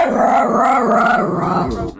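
A dog barking sound effect plays loud and close for about two seconds, a rough, tonal run of barks and growl-like sound.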